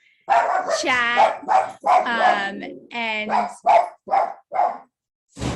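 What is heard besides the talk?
dog barking excitedly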